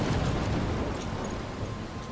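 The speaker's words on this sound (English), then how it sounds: "I'm trapped in a storm?" Stormy weather in the video game Life is Strange, with steady rain and a low thundery rumble rolling continuously for a couple of seconds, close and fairly loud, with no voices.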